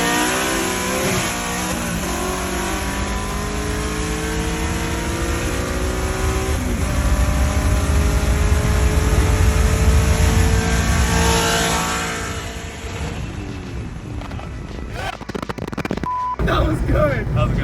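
A car pulls hard in a street race against a sixth-generation Camaro, engine roaring through rising gear sweeps for about twelve seconds before fading away; people talk and shout nearby, with wind buffeting at the end.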